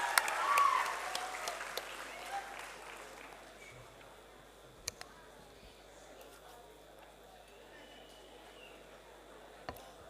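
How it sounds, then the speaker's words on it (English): Applause in a hall for a guest speaker at a university ideathon event, a short burst of many hands at the start that quickly dies away into a quiet room with a few scattered clicks and knocks. "Big round of applause. Give it up for ma'am"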